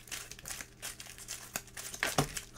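Playing cards for the Aventuria Adventure Card Game being shuffled and dropped: soft, irregular papery riffles and rustles, ending in a few sharper slaps as the cards land, close and quiet, with no talk.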